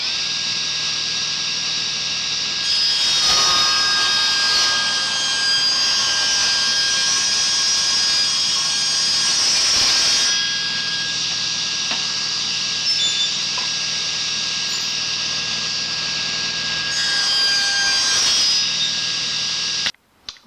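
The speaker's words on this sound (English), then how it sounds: "I'm going to cut 2 small squares out of this sheet of plywood." Power saw cutting small squares from a sheet of shop stock, a loud continuous high whine that runs steady for most of the stretch, with brief dips between cuts and a sharp stop at the end.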